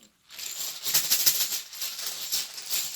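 Rattling clatter of small hard letter tiles being shaken in a container, continuous and close for a few seconds after a brief silence.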